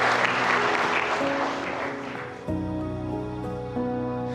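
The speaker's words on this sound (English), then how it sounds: "Yeah, good clap for that." Guests clap at a wedding ceremony at The Vu in Bathgate, a loud burst of applause that fades out after about two seconds as soft sustained music comes in and continues.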